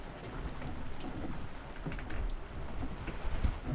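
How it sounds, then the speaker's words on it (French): Light rain falls on a sailing boat at sea, an even patter of drops with a few soft knocks and low rumbles, moderately quiet and with no one talking. "Là c'est une petite pluie"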